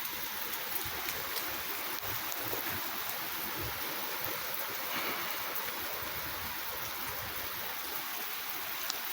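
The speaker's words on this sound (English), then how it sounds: "It's pouring rain out here." Heavy rain pours steadily outdoors during a partial hurricane with high winds, a dense continuous hiss of water on a wet deck that holds level and close throughout, with no voices.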